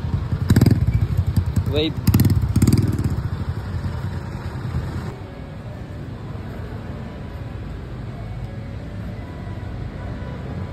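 A motorcycle with a full exhaust rumbles up close and loud, its engine revving in bursts before settling into a steady idle as someone talks over it.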